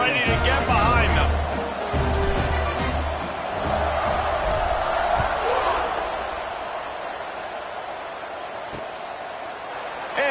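Stadium crowd in the video game NCAA Football 26, a broad roaring murmur swelling and fading under close commentary, with a few thumps and scattered cheers.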